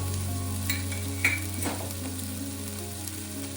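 Star fruit pieces frying in a pan for a chutney, a soft continuous sizzle under a low steady hum, with a couple of light stirring clinks and scrapes early on, no voices.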